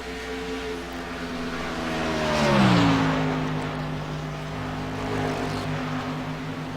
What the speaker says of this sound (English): Pretty awesome racing right there.